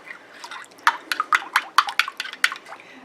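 A spoon stirs yogurt starter culture into milk in a bowl, making a string of close, light clinking and sloshing taps in an uneven rhythm, with no voices.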